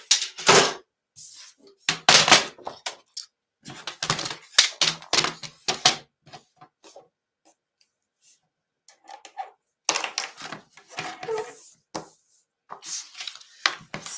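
Patterned craft paper being cut to size on a paper trimmer, with sharp clicks and slicing strokes in irregular bursts, separated by short quiet gaps, close by.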